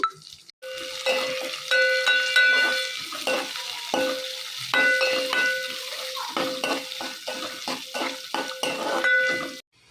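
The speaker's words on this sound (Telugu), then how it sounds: "కరివేపాకు, వెల్లుల్లిపాయలు, ఒక్క ఉల్లిపాయ ఫ్రై చేసుకొని" Curry leaves, garlic and onion fry in a pan with a steady, close sizzle while a utensil stirs and scrapes repeatedly against the metal.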